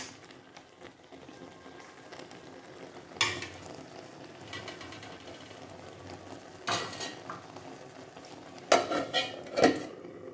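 Tomatoes cook down in salted liquid in a pan for Andhra tomato pickle, a low steady simmer broken by a few louder bursts of stirring and utensils scraping and clinking against the pot. No voices are heard.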